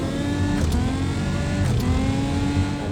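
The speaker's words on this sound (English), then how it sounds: "This is the Lamborghini V12 rev sound" Lamborghini V12 engine revving, a dense harmonic engine tone that climbs and dips in pitch over a few seconds, loud and close with no talking over it.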